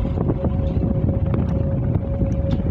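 Wind blows through the steel pipes of a bridge over Ô Loan lagoon, a steady whistling drone sustained for seconds under constant rushing wind noise, with faint clicks scattered through it.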